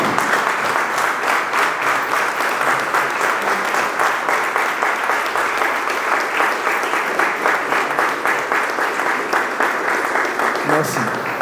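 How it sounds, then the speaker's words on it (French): Sustained audience ovation at an official swearing-in ceremony, a loud, even wall of many hands clapping continuously for over ten seconds, with a faint voice near the end. "S'il vous plaît, une ovation pour cela."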